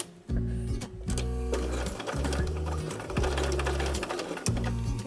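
A sewing machine stitching a fabric bookmark runs in close, loud bursts of rapid mechanical whirring and needle chatter, starting and stopping several times as the fabric is turned at a corner, with no talking.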